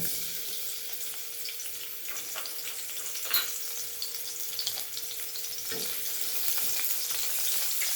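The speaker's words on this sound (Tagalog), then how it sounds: "Iglagay tayo ng mantika. Tsaka, gisa na natin yung bawang." Garlic sautéing in cooking oil in a home kitchen pan, a steady close sizzle with a few brief clinks or stirring touches, no voices.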